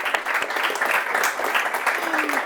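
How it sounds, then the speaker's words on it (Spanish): The audience at a talk by a researcher applauds with a steady wash of clapping from many hands at a lively, fairly loud level, with a few voices faintly underneath. "damos un aplauso a María del Mar."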